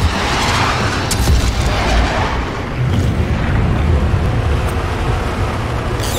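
Missiles launch and burst against a target in the Star Citizen space game, a dense, steady roar of rumbling blasts and engine noise with a few sharper hits, loud and continuous throughout.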